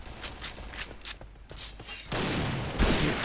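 Gunfire in the shooter game Point Blank on the Desert Camp map, with scattered single shots and short bursts growing into a louder, denser volley near the end.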